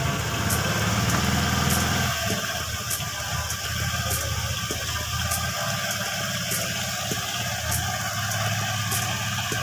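An older carbureted Honda-style scooter engine idles after restarting during a charging-system check with a replaced regulator, a steady close mechanical hum with a brief rev drop near the start, then an even running note.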